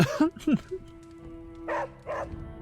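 Charlie, a hellhound in Marvel's Midnight Suns, gives a pair of sharp, close barks at the start, then softer yips and whines follow under a steady tone and a voice.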